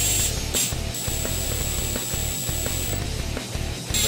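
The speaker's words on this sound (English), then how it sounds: "Now I'm going to run these in with the impact gun" An impact gun runs bolts into the clutch cover of a Yamaha Raptor 700 quad, a loud close rattling hammer in repeated bursts with short pauses between them.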